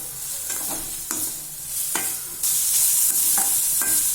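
Carrots are stirred and sautéed in a pan for vegetable cutlets, giving a continuous close sizzle broken by repeated scraping strokes of a spatula that come every half second or so.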